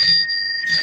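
A bright, bicycle-like notification bell chime rings out alone, two clear sustained tones with a slight re-strike near the end.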